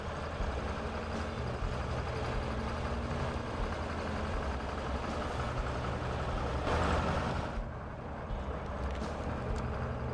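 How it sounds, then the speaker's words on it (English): An armored car in a driving video game runs with a steady, rough, chugging engine drone like an old two-stroke tractor, holding a constant level throughout with a brief swell near the end. "Almost like a two-stroke engine or something."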